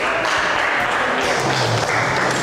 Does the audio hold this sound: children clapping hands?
yes